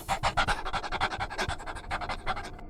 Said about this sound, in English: They bring in cadaver dogs.